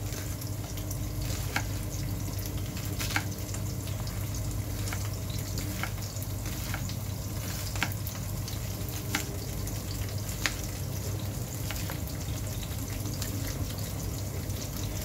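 Cauliflower omelette fries in a pan with a continuous close sizzle, broken by a few sharp pops and clicks, and no talking over it.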